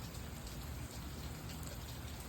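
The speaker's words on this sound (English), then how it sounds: "Just the rain." Steady rain falls on a backyard in Arizona City, a dense, even patter that holds constant throughout with no gaps and no voices.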